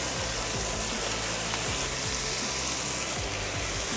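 Diced mirepoix vegetables hit a pan of rendered bacon fat and sizzle in a loud, dense, steady hiss that fills the whole moment, close up with no voices.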